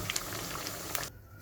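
Rice balls sizzle in hot oil in a frying pan, giving a steady, close, bubbling hiss with faint pops that cuts off near the end.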